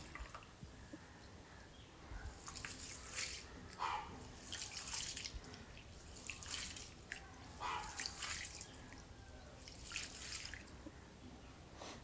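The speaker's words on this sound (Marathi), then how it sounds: "तांदूळ स्वच्छ पाण्याने दोन तीन वेळा धुवून घेऊया" Close, gentle sloshing and swishing of water in a container, repeated in soft rhythmic bursts with drips between, as rice is rinsed by hand in clean water.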